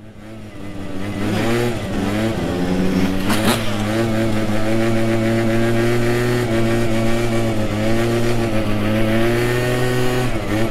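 An 85 SX dirt bike engine revs loudly and steadily close by during stunt riding, holding a sustained buzzing drone with a few sharper throttle blips early on, with no talk over it.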